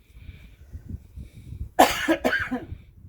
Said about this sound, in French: Si je tousse, c'est le pollen